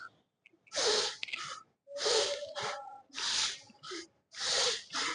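Heavy, forceful breaths come in four strong bursts with short pauses between, loud and close, like gasping exhalations during dumbbell shrugs in a home workout.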